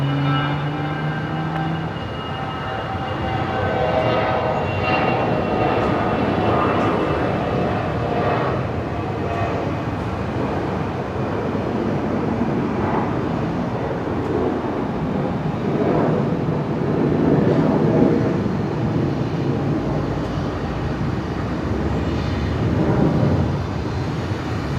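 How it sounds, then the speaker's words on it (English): A Velocity airliner departing Brisbane Airport, heard as a broad, steady jet roar from a distance that holds level throughout and swells slightly toward the end. "And the Velocity 73 now lining up, heading off as Velocity 346 this afternoon down to Melbourne."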